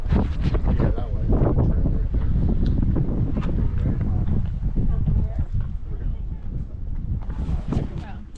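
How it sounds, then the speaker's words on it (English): Strong wind buffets the microphone on a mountain top, loud, rumbling and continuous, with people talking under it. "It's really windy up here."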